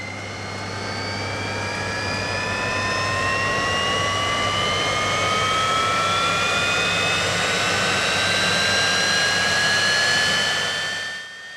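Jet airliner engine roaring steadily with rising turbine whine tones layered over a broad rumble, loud and close, swelling slowly before fading at the end.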